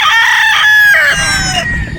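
Gamefowl roosters on a game farm in Batangas crowing, a single loud, close cock-a-doodle-doo with a drawn-out, wavering call and a quieter second crow trailing off at the end.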